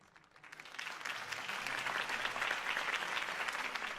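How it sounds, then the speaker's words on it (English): Crowd applause after Harvey Dent's campaign speech in Batman: The Telltale Series game, swelling from a soft start into a steady, dense roar of clapping from a large gathering heard at some distance. "If only Mr. Wayne, my campaign's largest backer, could have heard that applause"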